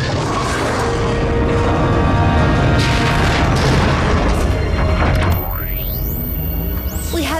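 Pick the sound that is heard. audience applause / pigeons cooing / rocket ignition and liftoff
rocket ignition and liftoff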